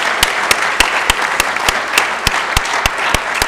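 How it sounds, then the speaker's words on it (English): A school chapel audience applauds for outstanding students, steady mid-level clapping with regular sharp claps standing out in a near, even rhythm throughout. "Please give them a round of applause"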